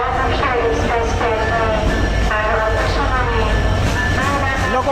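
A Bangladeshi passenger train hauled by locomotive 6617 on the Chapai to Joypurhat line keeps up a loud, steady rumble with rail clatter, while a voice talks over it throughout.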